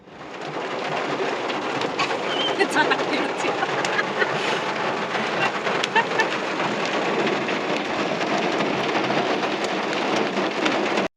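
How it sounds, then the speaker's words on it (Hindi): Heavy rain pours down steadily and loudly, a dense drumming wash on surfaces that continues without pause from start to finish. "बहुत तेज़ बारिश होने लगी, बहुत ज़्यादा ही तेज़ होने लगी थी"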